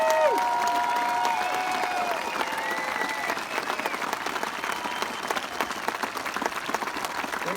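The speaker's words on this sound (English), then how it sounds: "let us show them our appreciation for their sacrifice for our freedoms with another heartfelt round of applause" A crowd at the Mount Rushmore evening lighting ceremony applauds returning service members, a sustained wash of clapping with scattered cheers and some steady tones drifting over it, fading slightly toward the end.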